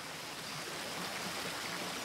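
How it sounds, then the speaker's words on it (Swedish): A cartoon stream in Bluey flows with a steady, soft wash of water, continuous and unbroken, with no voices over it. "Bäcken är underbar!"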